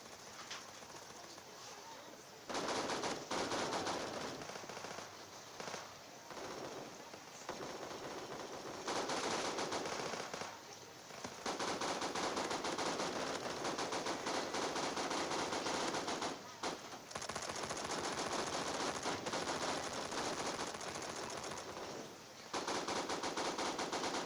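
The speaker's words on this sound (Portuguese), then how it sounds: "Pra passar pra lá eu vou tacar tiro." Automatic weapon fire in the online shooter Bullet Force, long loud bursts of rapid shots with short pauses between them, filling most of the stretch.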